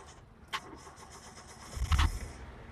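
A 2015 Maruti Suzuki WagonR engine cranks and catches once, a short, close burst near the end after a faint click, settling toward idle, with no talking.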